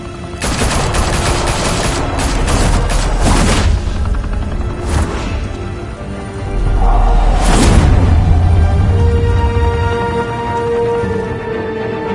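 Heavy gunfire in Batman: The Telltale Series, a loud, dense volley of overlapping shots and booms with several sharp bursts standing out over a continuous roaring bed.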